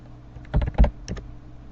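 A short burst of a few keystrokes on a computer keyboard during GST accounting data entry, close and fairly distinct, alone without speech.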